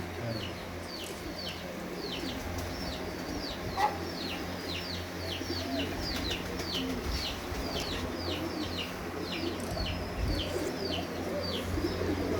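Breeder pigeon cooing in a repeated, rhythmic series of soft calls over a steady low background hum, with occasional faint other sounds.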